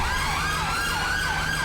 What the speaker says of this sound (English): everyone's sirens are stuck on